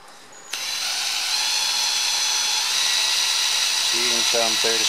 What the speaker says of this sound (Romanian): Voi învârti ușor cu bormașina